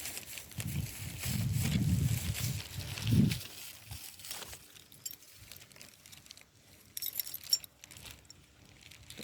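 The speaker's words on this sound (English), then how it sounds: "Get my keys." A set of keys jangling close by at a cemetery in Sheffield, with a few seconds of metallic clinking and rattling at the start before fainter handling noises follow.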